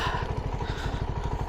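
A CFMoto 300NK motorcycle on its stock exhaust idles steadily nearby, a low, even thumping pulse with a faint mechanical clatter over it.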